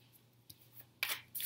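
Tarot cards reshuffled by hand, giving a few quiet, brief crisp riffles and slaps after a near-silent stretch, with a faint tap partway through and a louder shuffling burst near the end.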